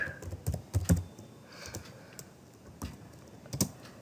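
Code being typed on a computer keyboard, with scattered close key clicks in irregular short bursts between quiet pauses.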